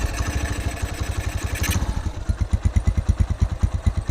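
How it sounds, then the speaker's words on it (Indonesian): A Honda Tiger motorcycle engine idles up close. A rough rev settles into a steady, loud, even chugging beat. "Nah. Tuh. Mesinnya halus sih. Ya, standar Tiger."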